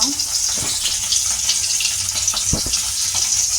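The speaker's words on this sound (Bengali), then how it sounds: "এখানে এক পিস মাছ ভাজছি" A single piece of fish fries in oil at home, giving a steady, loud sizzle with a few sharper pops and spits near the pan and no voices.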